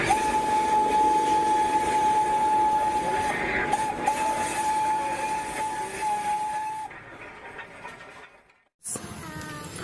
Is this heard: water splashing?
no